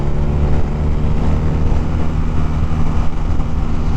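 A 2017 BMW R nineT motorcycle cruising on a highway in fifth gear at about 70 mph and 4,500 RPM, a steady, loud engine drone with heavy wind rush throughout and no talking.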